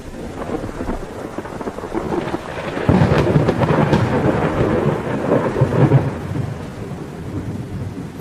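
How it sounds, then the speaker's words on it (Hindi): Cartoon thunderstorm with steady rain hissing throughout and a deep rolling thunder rumble swelling midway, with no voices. "ये तुम्हारी पहली बारिश है।"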